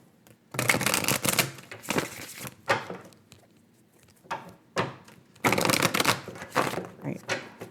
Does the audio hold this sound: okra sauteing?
no